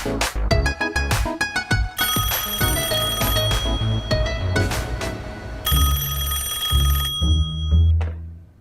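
A telephone rings loudly in a home scene from a drama, its electronic ring repeating in bursts over several seconds with background music beneath it.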